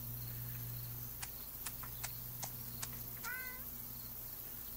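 Cat in the Farm Together farming game gives a single short meow toward the end over a quiet bed of crickets, low hum and a few soft clicks.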